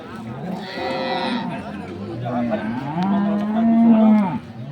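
Jersey dairy cows at the Ambari cattle market in Dinajpur low repeatedly in long, drawn-out moos, some near and loud, others further off, over a busy hum of market chatter and nearby voices.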